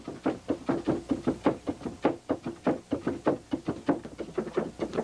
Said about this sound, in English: The pounding of the newly harvested rice has a special beat